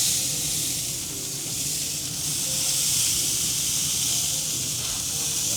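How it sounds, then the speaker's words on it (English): A spray bottle mists meat on a smoker grill, producing a soft, continuous hiss that runs throughout at moderate level, with faint outdoor background underneath. "Kind of dry, so I'm gonna spritz them a little bit."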